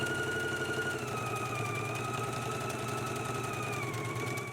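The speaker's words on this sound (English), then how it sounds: "let's go ahead and stitch it now and finish off the raw edge" A sewing machine runs steadily while stitching a jacket sleeve seam, a continuous motor hum with a fine rapid stitching rhythm, close and sustained throughout with no talking.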